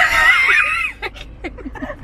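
A voice lets out a long, high, wavering screech, imitating a shrill cry, followed by a few short breathy syllables.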